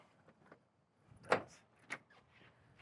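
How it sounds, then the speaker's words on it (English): A 1972 Chevy Nova's door unlatches with a sharp click and swings open, followed by a second softer clunk, in a quiet showroom. "As we open up the doors"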